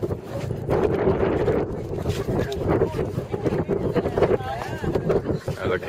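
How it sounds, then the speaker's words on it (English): Gusty wind buffeting a dock on Rondeau Bay near Lake Erie in the morning, a rough, loud rumbling roar with fluctuating intensity, with faint voices mixed into the noise. "Pretty windy this morning."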